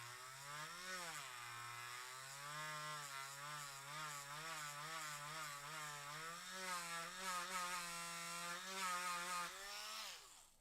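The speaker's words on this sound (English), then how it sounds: "we're going to go back through this hole here that we just drilled, opposite side" A power drill grinds steadily through a plastic dinosaur warrior toy's ankle, a continuous whining motor note that dips and rises in pitch as the bit bites, close and alone for about ten seconds.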